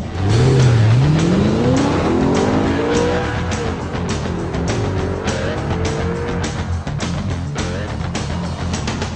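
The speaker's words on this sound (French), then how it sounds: "en rétrogradant, d'entendre un renvoi de régime moteur tout à fait enthousiasmant" An Audi R8 4.2 blips its engine on a downshift, the revs sweeping sharply up then settling into a loud, close, throaty drone as the car drives on.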